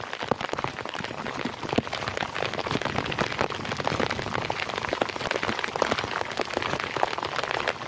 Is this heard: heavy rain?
yes